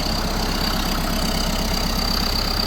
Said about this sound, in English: Kubota diesel engine.